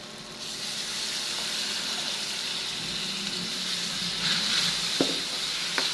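Pork and boiled mung beans sautéing in a pan, a steady, close hiss of sizzling with a light clink of a utensil near the end and no voices.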